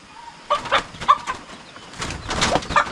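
Hens cluck in short bursts close by, with rustling and a few brief sharp calls among surviving chickens in a farm yard.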